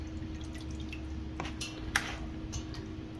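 Marinated chicken lifted out of its marinade and transferred to another bowl, dripping liquid in a few soft, scattered drops and small splashes, close by and quiet over a steady low hum.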